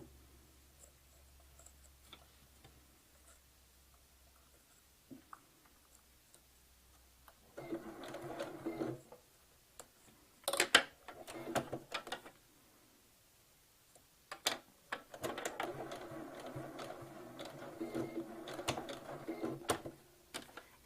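A sewing machine stitches through layered quilt fabric in short bursts, its rapid mechanical chatter starting and stopping as the material is guided, fairly close and alone without talk.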